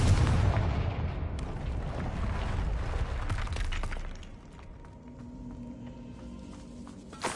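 A Confringo fire spell cast in a Harry Potter video game bursts with a loud, crackling blast and rumbling debris, then decays into a quieter low hum and faint ringing.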